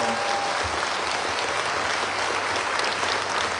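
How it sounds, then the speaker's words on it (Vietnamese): Applause from the assembly at the opening ceremony of a Buddhist retreat in Oslo, Norway: sustained, even clapping from many hands filling the whole stretch. "Vỗ tay."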